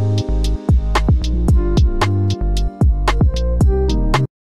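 A synth bass line with gliding, sliding notes plays alone in a steady groove over a low sustained tone, ending abruptly, made in FL Studio for a chill piano beat.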